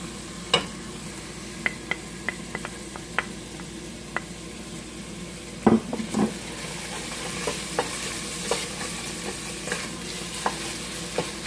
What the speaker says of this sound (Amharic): ለ3 ወይም 4 ደቂቃ ሽንኩርቱና ነጭ ሽንኩርቱን በዘይት ከጠበስን በኋላ አሁን ቃሪያውን እንከተዋለን።